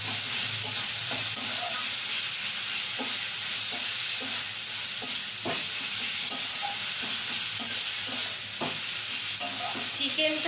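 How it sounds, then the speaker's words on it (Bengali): Chicken with turmeric, chili powder and salt sautés in a pan, giving a continuous loud sizzle. Repeated scraping and stirring knocks run through it at close range, with no talking. "চিকেনটা ভালো করে কষিয়ে নেব"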